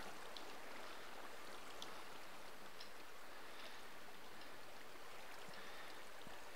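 Steady flowing water in Minecraft's Twilight Forest, a soft continuous wash of stream-like noise with faint droplet-like ticks, alone and fairly quiet throughout.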